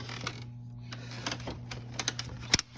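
During a thermostat replacement on a 2014 BMW X5 3L, a connector is pushed into place: a few light taps and fiddling clicks, then one crisp, distinct snap near the end, close and alone over a low hum.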